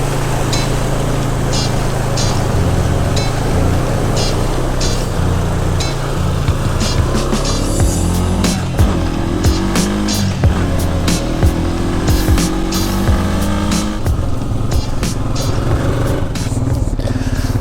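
A base model Honda Rancher 420 ATV riding along, its engine droning steadily up close while clicks and rattles from the machine and terrain scatter throughout, with no voices.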